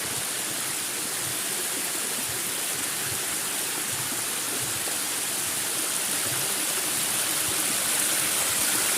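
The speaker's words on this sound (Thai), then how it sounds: "เสียงน้ำไหลป่ะครับ" Steady rushing water tumbling over the rocks of an overflow weir, a constant close splashing hiss with no voices.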